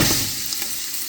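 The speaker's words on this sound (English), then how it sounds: "Ground beef. Sizzling." Two pounds of ground beef for chili sizzle steadily in a hot pan, a loud continuous crackling hiss with no voices.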